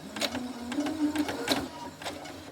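A sewing machine stitches a quarter-inch quilting seam through fabric, a close, steady rapid run of needle strokes with rhythmic pulses, no talking.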